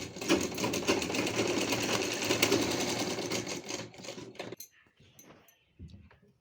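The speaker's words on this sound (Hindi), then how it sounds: "अब इसकी भी डबल स्टिचिंग ले लेंगे।" A sewing machine runs steadily, double stitching sleeves onto a plain net fabric gown, a fast, even whirring rattle close by for about four seconds before stopping, followed by faint quiet handling noises.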